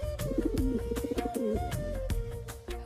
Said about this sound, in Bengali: ওয়াও, কত সুন্দর পায়রা!